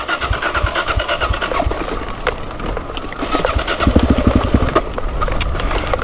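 A motorbike engine revs on a muddy, greasy track, rising and falling in uneven bursts close up, with throttle blips and labored pulling through the slick ground.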